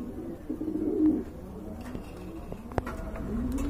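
Lahori pigeons coo softly in a low, repeated warble, faint and close, with some scattered clicks and handling noise around them.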